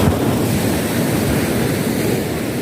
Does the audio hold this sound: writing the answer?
no